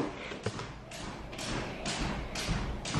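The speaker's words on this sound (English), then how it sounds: "if you hear that noise in the background, that's Lewis on the jump rope" A jump rope thumps on a floor in a repeated steady rhythm of soft thuds, somewhat distant and faint in the background of a room, with no talking.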